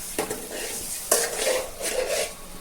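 A spoon scrapes and clinks against a pan while boiled eggs are turned through masala, a few sharp knocks followed by a soft, steady stirring scrape close by, with a faint sizzle under it.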